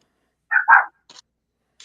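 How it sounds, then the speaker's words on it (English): Dogs barking indoors, upset by fireworks outside: two quick sharp barks close by, followed by fainter yips after a pause. "I don't know if you can hear my dogs going"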